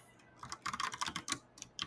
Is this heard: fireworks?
no